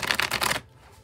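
A tarot card deck is riffled in a quick burst of close, crisp shuffling for about half a second, then stops abruptly into near silence.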